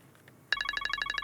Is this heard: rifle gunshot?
no